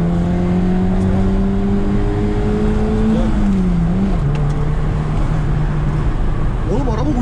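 A Fiat Uno with a broken exhaust drones loudly from inside the cabin as it drives fast, its engine note holding steady, then dipping and shifting over constant road noise.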